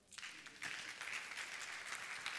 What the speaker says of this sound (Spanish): Alguien dé un aplauso ahí.